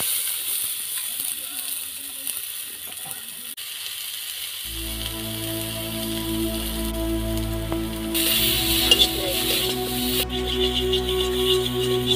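Onions dropped into hot oil in a pan for a fish curry, chuna machha besara: a quiet start, then a bright, steady sizzle with spoon clatter, while someone talks over the cooking.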